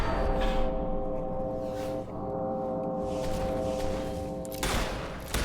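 Gunfire from a gun in Fable 3, loud shots over a sustained droning tonal hum, with a dense burst near the start and again near the end.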